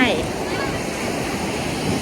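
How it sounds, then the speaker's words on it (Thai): Strong sea waves break on a beach at Khao Lak in Phang Nga, Thailand, a continuous washing roar with wind noise and a brief voice at the start. "คลื่นแรงมากเราก็ลงไม่ได้"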